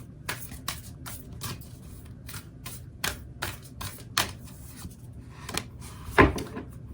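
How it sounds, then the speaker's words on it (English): Oracle cards are shuffled and drawn by hand, giving a run of crisp, irregular riffling snaps and taps, close and fairly quiet, with a brief louder rustle near the end and no speech. "let me pull up a final oracle card for you"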